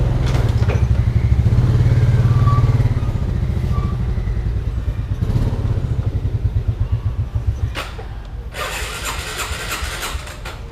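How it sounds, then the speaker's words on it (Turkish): A motorcycle engine idles roughly and sputters unevenly, as if misfiring, with a loud, close, irregular chugging that slows and weakens toward the end. "Motor tekliyor. Motorda sıkıntılar var."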